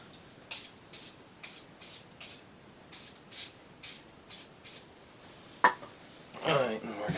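Aerosol can of WD-40 sprayed in a rapid series of short hissing bursts, followed by a louder rustle of paper towels, close by and with no talking.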